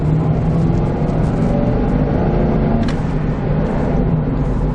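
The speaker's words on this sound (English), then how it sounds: "let's just push the gas down a little bit just for the heck of it." A Mercury Grand Marquis sedan's engine pulls under throttle, a loud, steady, close drone from inside the car that holds for several seconds without a break.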